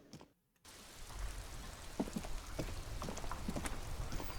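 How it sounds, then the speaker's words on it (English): Rain in the video game Disco Elysium starts after a brief silent gap and settles into a continuous patter with scattered sharper drop taps, moderately close, with no speech. "It's raining again."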